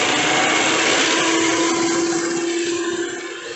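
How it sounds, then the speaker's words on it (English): An electric beater whisks cream in a bowl set over cold water, a loud, steady, continuous whir that holds an even pitch throughout, with no voices. "Now we will keep the cream bowl on top of it and using a beater we will whisk it."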